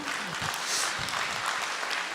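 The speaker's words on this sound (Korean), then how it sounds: "이렇게 박수가 나오는 것 같습니다" Audience clapping at a town-hall talk concert with a local lawmaker and residents in Gimpo, a steady, moderately loud patter of many hands filling the short stretch without a voice over it.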